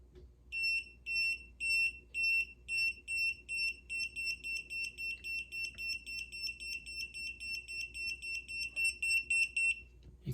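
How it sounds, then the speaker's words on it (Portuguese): A GVDA GD168B smart clamp meter signals low-voltage detection with a rapid, continuous series of short high-pitched electronic beeps, steady and repeating over a faint background hum, without speech. "Quando ele emite aquele som verde e a letra L, significa que ele achou uma tensão baixa"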